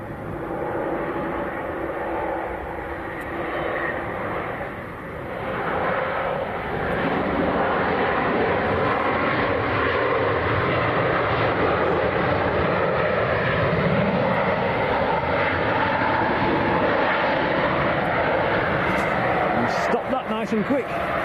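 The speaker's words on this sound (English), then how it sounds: "So this is Ryanair from Tenerife." Ryanair airliner arriving from Tenerife and landing at Leeds Bradford airport, a loud sustained jet engine roar that swells and holds, with a person talking over it throughout.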